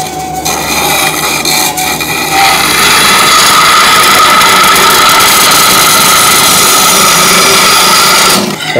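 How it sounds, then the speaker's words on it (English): A bandsaw cuts through a titanium piece for a textured bowl, giving a loud, steady grinding rasp with a motor hum underneath that runs nearly unbroken for about eight seconds before it stops. "Let's bandsaw it."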